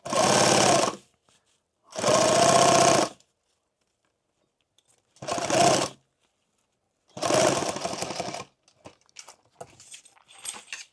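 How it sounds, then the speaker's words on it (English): An electric sewing machine stitches through Cordura for a fanny pack in four loud, close bursts of rapid mechanical whirring, separated by silent pauses, followed by softer handling and fabric rustles. "how the machine is sewing from the edge"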